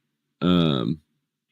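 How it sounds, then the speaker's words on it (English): A cat meows at a door, one loud, close, drawn-out cry of about half a second that ends abruptly into silence. "It's been sitting at the door meowing for like a fucking half an hour"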